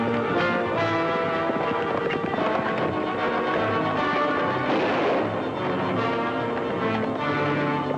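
A gunshot rings out in an action scene from a 1938 film serial about a Native American raid, sounding as a sharp loud report amid continuous dense noise with no voices.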